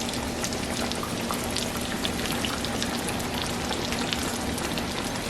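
Breaded green tomatoes frying in a pan of hot oil, a steady dense sizzle and crackle, close and continuous throughout with no talking.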